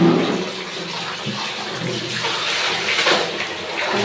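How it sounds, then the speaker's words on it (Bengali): Clothes are being hand-washed in water with soap and detergent, giving continuous close sloshing and splashing with small swells, and no one speaks. "কাপড়গুলোকে একবার ধুয়ে নিচ্ছি"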